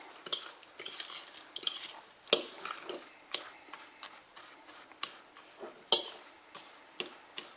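A fork clinks and taps against a dish holding muffins, with a quick, irregular run of sharp close metallic ticks and scrapes and short quiet gaps, no voices.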